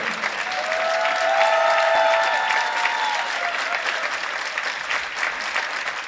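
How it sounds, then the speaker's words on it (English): Audience applause in a gym at a boys varsity high school basketball game during an award presentation, a sustained, full wash of clapping that swells and then slowly tapers, with a few shrill tones briefly over it. "A nice round of applause for Todd McCarthy on his award"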